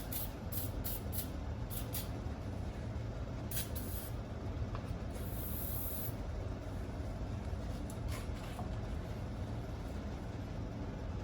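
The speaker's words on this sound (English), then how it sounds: "Get a little brake clean." Brake cleaner sprayed onto car brakes in a garage: short hissing bursts, some repeated quickly, over a constant dull background roar, with no one talking.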